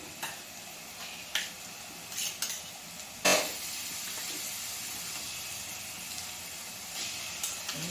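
Onions and garlic frying with chicken in a pan give a steady low sizzle, broken by several sharp clinks and scrapes of a spoon against the pan, one louder knock partway through.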